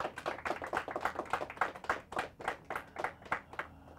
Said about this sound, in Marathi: सरांकरता जोरदार टाळ्या